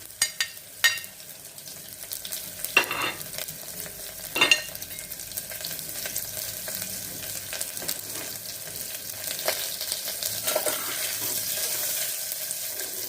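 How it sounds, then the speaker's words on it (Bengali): Mustard seeds, ginger and mango sizzling in hot oil, a steady close hiss with a few sharp crackles and pops early on, the frying noise swelling slightly toward the end, with no voices. "সর্ষে ফোড়ন দিচ্ছি, সর্ষে ফোড়ন, আদা আর আমটা দিয়ে একটু ভেজে নিচ্ছি"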